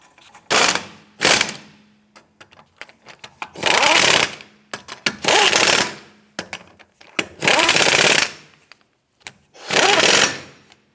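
Power tool driving lug nuts onto the wheel of a 2008-2013 Nissan Rogue, five loud close ratcheting bursts of about a second each, separated by short quiet pauses.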